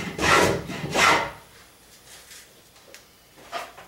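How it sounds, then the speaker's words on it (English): Hand plane with a raised iron taking thin shavings from wood: two quick, airy swishing strokes up close, then a few faint scrapes and taps in a quiet room. "I raised the iron, and now I'm taking thinner shavings, so I'm not cutting off nearly as much, and it sounds much better."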